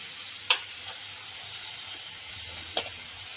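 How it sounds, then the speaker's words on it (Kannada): Potatoes frying in oil in a pan for aloo curry, a steady, soft sizzle throughout with two sharp spatters or stirring clinks, fairly quiet and without talk. "ಇವಾಗ ಆಲೂಗಡ್ಡೆ ಹಾಕ್ತಾ ಇದ್ದೀನಿ ನಾನು"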